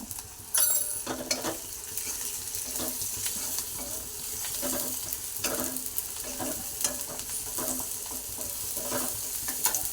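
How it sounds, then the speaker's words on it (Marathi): Onion and green chilli frying in a pan for a quick okra (bhindi) dish, with steady sizzling and repeated scraping stirs of a spatula, close and moderately loud, no talking. "भाजून घ्यायची आहे कांदा मिरची"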